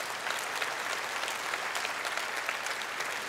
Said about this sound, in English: go ahead and clap for Jesus, would you?